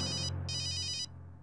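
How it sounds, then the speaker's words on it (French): A mobile phone rings with a bright electronic ringtone in two bursts, a short one then a longer one, loud and close, over a steady low hum. "Pourquoi est-ce que mon téléphone sonne?"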